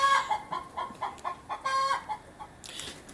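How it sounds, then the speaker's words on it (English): Backyard chickens clucking close by in a quick run of short, bright, repeated calls, several birds overlapping in an uneven rhythm, with no talk. "They're very vocal, these chickens."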